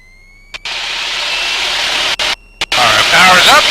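A T-6 Texan's engine roars at full takeoff power, loud and steady, with a harmonic drone, brief cutouts and radio-style noise, at Kissimmee, Florida.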